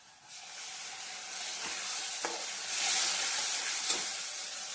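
Onions fry in a pan with ground masala paste, a steady close sizzle and hiss that swells slightly partway through, with a few faint stirring taps and no talking.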